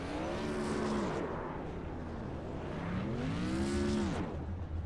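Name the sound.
race car burnouts in iRacing (video game)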